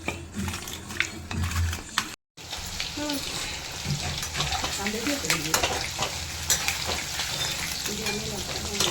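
Chicken 65 deep frying in hot oil, a dense, loud crackling sizzle with bursts of bubbling, stirring clinks and a brief silent gap, voices talking faintly underneath.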